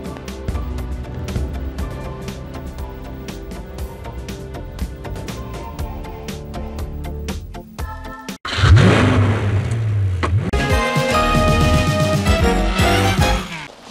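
A Mitsubishi Galant mid-size car drives off the paved road, its engine droning and revving with rattling and whirring, then surging louder and rougher partway through under bursts of noise.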